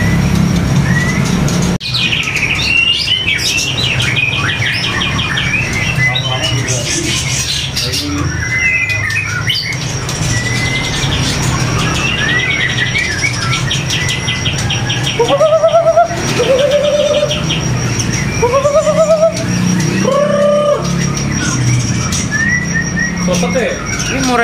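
Caged magpie-robin (murai) songbirds at a bird seller, including split albino and panda varieties, giving loud varied chirps, squawks and whistled phrases in bursts amid background chatter and other birds.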